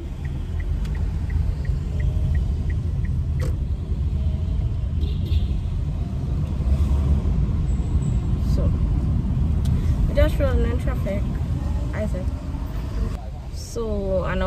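A car drives along a busy road in morning traffic, a steady low engine and tyre rumble running throughout with passing vehicles and a few faint chirps near the end.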